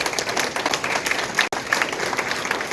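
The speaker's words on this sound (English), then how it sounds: "Y'all give them a round of applause." An audience at a women's leadership sports event gives a hearty round of applause, steady dense clapping with a brief dropout midway, close and lively.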